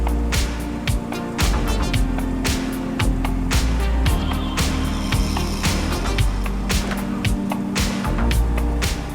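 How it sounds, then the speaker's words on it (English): A Saab 900 Turbo convertible's power roof motor raises the top: a steady mechanical whir runs throughout, close by, broken by frequent sharp clicks and clunks from the moving frame. "I push that button and the roof glides into life"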